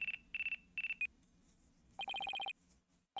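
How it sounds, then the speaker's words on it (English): Phone ringtone in the Ace Attorney Dual Destinies game: a bright electronic chirp in four short bursts, a pause, then a fast trilling run of repeated tones, loud and clear with no voices. "Looks like I have a phone call."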